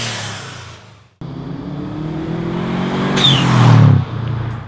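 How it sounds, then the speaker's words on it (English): Turbocharged car engine revving with the blow-off valve blocked, producing compressor surge: a loud, close engine note that climbs and builds, with a fluttering surge and whir near the peak before dropping off. "By blocking off the blow-off valve, you prevent it from venting air, which creates the compressor surge sound"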